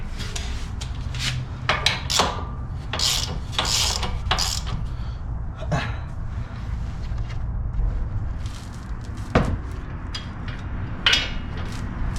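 Bolts being tightened during an Eibach Pro-Lift spring install on a Toyota RAV4, with repeated short metallic ratcheting and rubbing clicks in bursts, close and moderately loud over steady workshop background noise.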